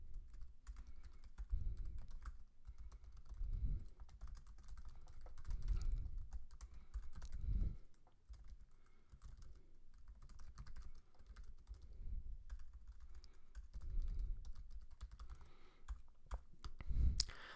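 Code being typed on a computer keyboard: quiet bursts of fast key clicks with short pauses between them, close and faint, with no talking.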